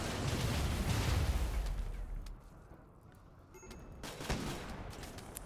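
Enemies blowing up in a chain reaction in RimWorld, a dense burst of booming, crackling blasts that rumble loudly for about two seconds, fade to a low rumble, then flare again with sharper cracks.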